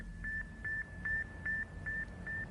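Faint radio signal from the Soviet satellite, a thin cricket-like beep repeating about six times at an even pulse through a low bed of static and noise.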